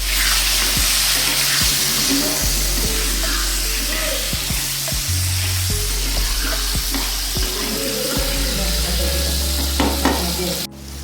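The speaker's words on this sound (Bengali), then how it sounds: "আগে কেটে রাখা যে ডুমো ডুমো আলুগুলো সেগুলো গরম তেলে ছড়িয়ে দেওয়া হলো।" Diced potatoes spread into hot oil for a Bengali mutton curry, a loud, dense, continuous sizzle with low clatter and scraping underneath, close to the pan.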